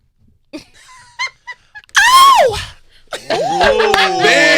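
A man imitates Michael Jackson's signature high-pitched scream, a loud rising-then-falling wail after a few short vocal bursts, followed by another sustained vocal cry amid talking and laughter.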